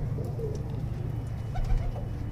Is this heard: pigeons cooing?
yes